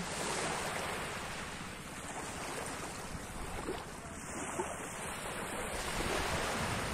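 Steady winter surf washing ashore on a Bangladesh sea beach with a constant roar, mixed with gusty wind buffeting the microphone; no voices, the waves rolling continuously throughout.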